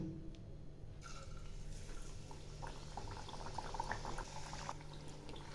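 Luchi dough frying in hot oil in a wok, a steady close sizzle and bubbling hiss that holds throughout with scattered crackles and no talking.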